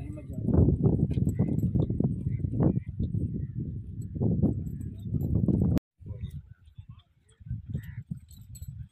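Horse hooves clatter in quick uneven beats on the ground at tent pegging practice, with a short gap before softer hoofbeats resume.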